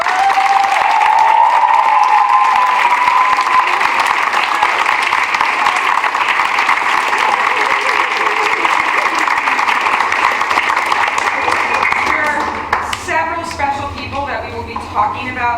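A large audience at a school forensics event in an auditorium applauds loudly and steadily for about twelve seconds, with a voice faintly audible through the clapping before it thins out and stops near the end.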